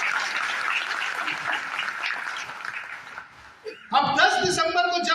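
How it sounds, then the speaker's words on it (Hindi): Audience applause at a motivational income seminar, a steady crowd clatter for about three seconds that fades out, followed by a loud, tonal burst of voices or music. "जोरदार ताली होनी चाहिए हमारे इस मोदी को"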